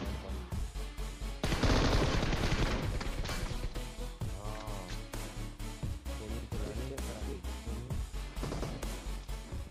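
Gunfire in the mobile battle royale game PUBG Mobile, with loud, dense bursts of rapid shots and a heavy blast early on, followed by continued repeated firing through the stretch.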